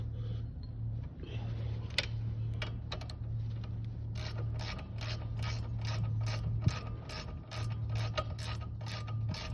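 A hand ratchet clicks in quick, uneven runs while tightening a 15 mm brake bracket bolt on a 2004 Chevy Venture, close and sharp, over a low steady hum.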